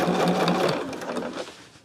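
Sewing machine stitching nested seams on quilt fabric, a fast steady whirring hum with rapid needle ticks, close and alone, slowing slightly at the end.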